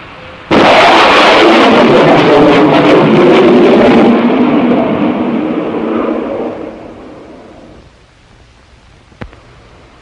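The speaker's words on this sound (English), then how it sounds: "It is the sonic boom you hear from a supersonic airplane." One abrupt, powerful sonic boom from a supersonic airplane hits, then a heavy rumbling roar slowly fades over several seconds, ending with a faint click in near silence.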